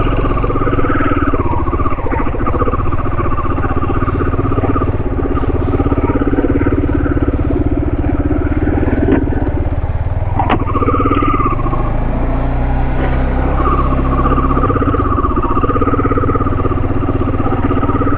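A motorcycle cruises along a highway with a steady, loud engine drone and heavy wind rush throughout, passing traffic faintly audible, and no voices.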